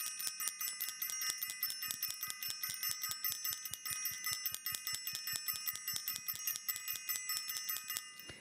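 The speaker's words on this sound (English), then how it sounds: "I want to ring the bell" A small bright bell rings rapidly and repeatedly in an even rhythm, dozens of quick metallic dings with a lingering shimmering tone, no voices.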